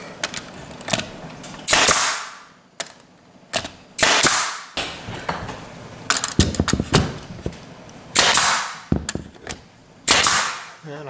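A nail gun fires nails into coffered ceiling trim: sharp, loud pops arrive singly and in quick pairs, each with a brief hissing burst of air and short quiet gaps in between.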